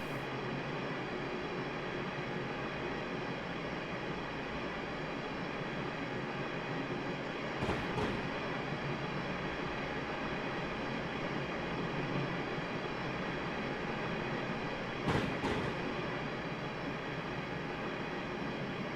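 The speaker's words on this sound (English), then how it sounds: "Light train again naturally slow down, coast down as we make the approach" Class 350 electric multiple unit coasting on the Rugby to London Euston line in Train Sim World 2021, a steady, continuous rolling and motor hum with two brief louder bumps, no talking.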